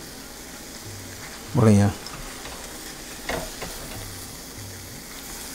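Mutter mushroom makhana sabzi stirred in a pan, a steady frying sizzle running throughout with a couple of brief scraping stir strokes; a short spoken word cuts in near the start.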